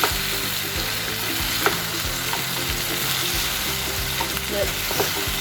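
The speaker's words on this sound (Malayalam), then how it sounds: "ഇനി നമുക്ക് ചിക്കന് ഇട്ടുപോകാം. നമുക്കൊരു 2-3 മിനിറ്റ് ഇതിനകത്തിട്ട് ഇളക്കാം." Chicken 65 pieces fry in garlic, ginger and masala in a hot pan, a loud, dense, continuous sizzle with occasional stirring scrapes, close up and with no talking.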